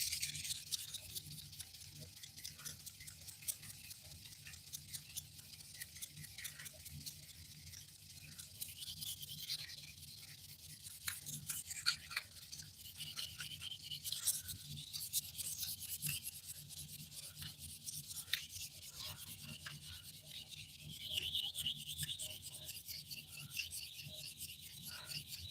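Fine 400-grit sandpaper rubs in quick, steady back-and-forth strokes, a soft close rasping that continues without a break, with no voices.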